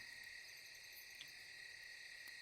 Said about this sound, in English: where the fuck is there crickets in my fucking room?